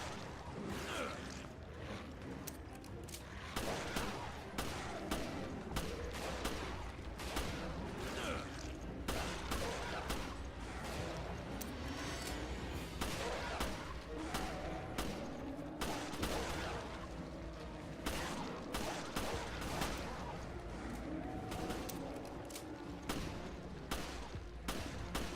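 Sustained gunfire from the video game Resident Evil Revelations on Switch 2, dense bursts of rapid shots running almost continuously through the clip over game sound.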